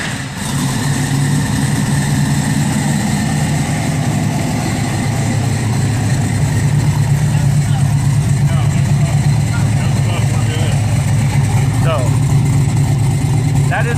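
A 1971 Chevrolet Camaro engine runs at a steady idle throughout, a loud continuous low rumble with a constant mechanical hum, and voices talk faintly over it.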